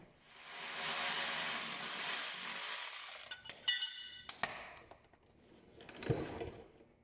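A T40 Torx driver loosens the cover bolts on a 2018 Polaris Sportsman 850 with a long steady whirring run, followed by scattered close ratcheting clicks and small metallic knocks, moderately quiet.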